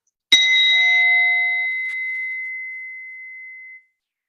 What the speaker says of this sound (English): there's the bell that signals